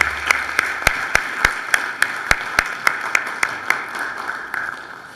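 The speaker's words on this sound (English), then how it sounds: "So let's give Herman Geist another round of applause" Sparse, evenly spaced claps ring out in a legislative chamber as a round of applause is given, each sharp clap distinct over a quiet room rather than a full ovation.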